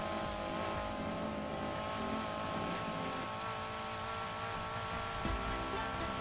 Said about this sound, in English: Listen to my quieter exhaust.